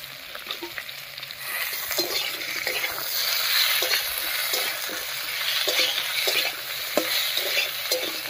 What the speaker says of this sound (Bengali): একটু নাড়িয়ে নিলাম।